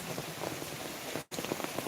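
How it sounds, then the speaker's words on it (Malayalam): Heavy rain pours steadily over an outdoor guppy fish farm, a dense continuous hiss with scattered drop impacts, briefly cut to near silence for a split second before resuming at full strength. "അത്യാവശ്യം നല്ല മഴയാണ്"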